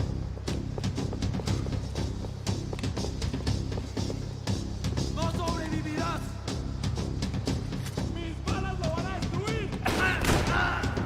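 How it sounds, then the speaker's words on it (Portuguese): Rapid gunfire in the video game Max Payne 3, dense bursts of sharp shots and fusillades crackling nonstop over game music and effects, with someone talking intermittently over the shooting. "Ele já começou a atirar."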